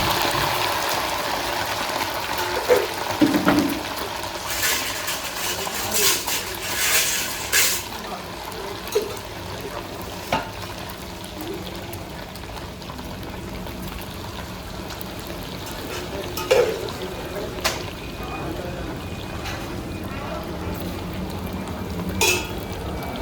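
Chicken pieces hiss and sizzle in hot oil, a steady broad crackle running throughout with occasional louder pops and spatters close by.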